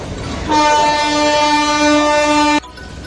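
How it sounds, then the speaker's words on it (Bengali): The Howrah Bikaner Express pulls into Bardhaman station, sounding a single loud, steady horn blast of about two seconds over the rumble of the train. "তো ট্রেন ঢুকছে।"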